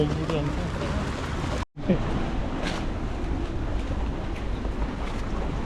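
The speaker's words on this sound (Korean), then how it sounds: "파도 많이 쳐." Waves crash continuously against the waterfront in Venice, a dense, wind-buffeted roar close by, broken by a momentary dropout, with people talking over it.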